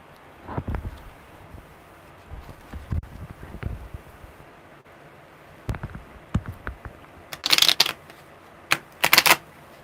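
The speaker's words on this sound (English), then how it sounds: "That was a weird shuffle." Tarot cards are shuffled in several short, crisp riffling bursts separated by quiet pauses, with a few louder, sharper riffles near the end.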